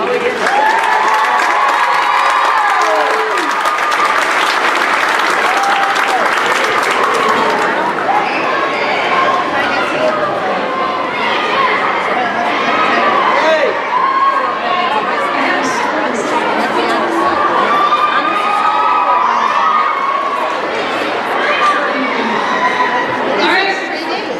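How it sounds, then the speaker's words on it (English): A school audience at a junior high awards night applauds and cheers: loud, continuous clapping mixed with shouts and crowd chatter, steady throughout. "if you can hold your applause till after we've read the names"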